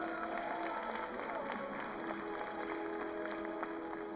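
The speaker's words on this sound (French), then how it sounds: "à l'applaudir de nouveau très très fort" Audience applause for a cosplayer in a wolf costume at a cosplay festival parade, a steady broadband patter of clapping with crowd murmur and some tonal background sound running underneath throughout.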